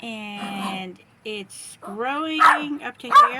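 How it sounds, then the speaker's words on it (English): A dog gives a few short barks and yips indoors, loud and close, interleaved with a person talking nearby. "my dog here is barking"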